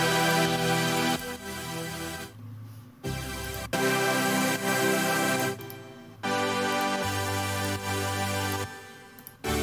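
Future bass synth chords made in FL Studio with heavy effects, sustained and dense, played in a choppy pattern with sudden drop-outs and swells, loud and alone with no talking.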